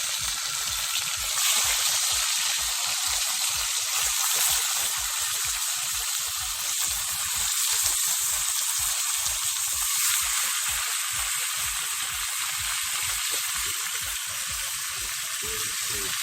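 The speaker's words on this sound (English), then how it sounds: "now the oil hot. I'm going to put the beef." Beef pieces frying in hot oil hiss in a loud, continuous sizzle with a dense bright crackle that holds steady throughout, close by and alone.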